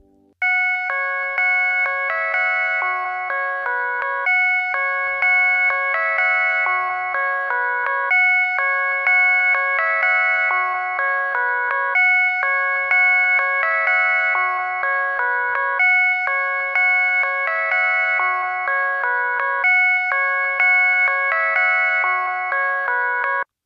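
A bright synth lead with a bell-like tone plays a steady repeating melodic pattern for over twenty seconds while an EQ filter with a narrow, high Q trims its harsh ringing frequencies; loud, clean and alone, with no voices.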